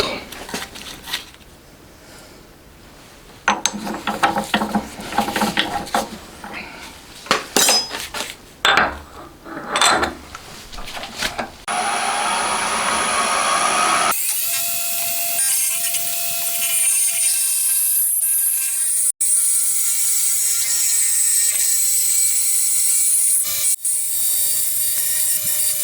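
Machining a 125cc four-cylinder, 16-valve engine head cover flat: scraping and clinking metal work at first, then a loud steady whine with a high tone holding through the second half, no talk.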